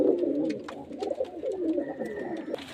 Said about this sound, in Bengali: এই এক পেয়ার পায়রা এগুলো হাই প্লাইন পায়রা